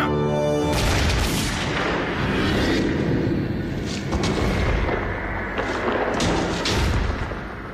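Rifle volley from a firing squad executing revolutionaries in a historical drama, loud booming reports repeating over a dense rumbling bed of sound, close and without voices.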